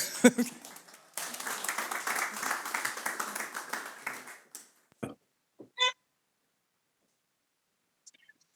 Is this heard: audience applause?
yes